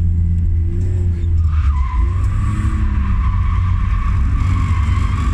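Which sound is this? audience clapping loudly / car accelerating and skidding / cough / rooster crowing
car accelerating and skidding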